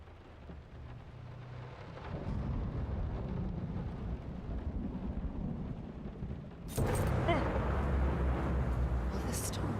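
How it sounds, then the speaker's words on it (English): Steady heavy rain hisses throughout in the video game Layers of Fear, with low rumbling thunder rolling underneath and a louder burst of storm noise near the end. "Will this storm ever run out of rain?"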